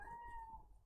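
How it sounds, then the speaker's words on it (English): A cat shut in another room wails with a drawn-out meow, faint and distant behind quiet background noise during a Mage Knight board game session. "the wailing in the background, that's our cat, who's now shut in"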